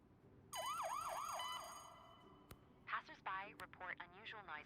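Wailing ambulance siren from the Global Rescue emergency-services game, a loud rising-and-falling yelp that cycles for about two seconds, then cuts off and gives way to chirpy, warbling tones and short bursts over a steady background hum.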